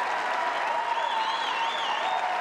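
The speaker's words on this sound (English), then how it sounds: "They do have something to cheer about right now." A tennis crowd at an Indian Wells first-round WTA match breaks into sustained, dense applause and cheering after a point, loud and continuous, with faint whistles riding on top.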